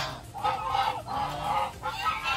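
Breeder geese honk repeatedly in a flock, three long overlapping calls close by and loud, with no talk.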